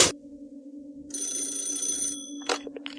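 A telephone bell rings loudly in two bursts: a brief ring at the start, then a long sustained ring over a steady low hum, followed by a short clatter as if the receiver is picked up.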